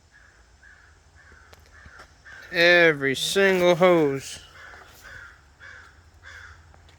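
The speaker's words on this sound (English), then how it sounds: "Here's the crow." A crow caws several times, loud and fairly close, in a short burst of harsh rasping calls, while someone talks quietly before and after in a garage during coolant hose work on a Freightliner cabover truck.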